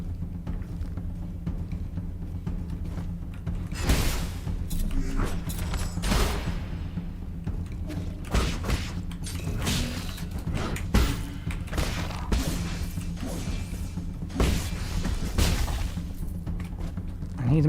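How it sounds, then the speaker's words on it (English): Talisman explosions in the video game Nine Sols go off as repeated booming thumps and bursts through a busy combat mix, rising to sharp peaks every second or two over a steady low game hum. "I need to make sure to kill them with talisman explosions."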